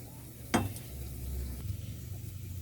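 Oil sizzles and crackles in a pan while sautéing for Filipino boiled pork soup, with a sharp clank of a utensil near the start and a low steady hiss throughout.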